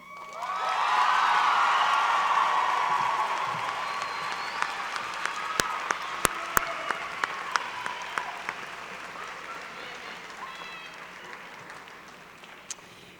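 A large crowd at a 2015 high school graduation ceremony breaks into loud applause with some cheering and whoops, a thick roar that slowly fades into scattered individual claps, no talk over it.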